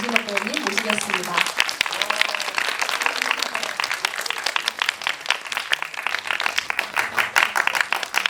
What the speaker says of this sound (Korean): 박수로 맞이해 주시면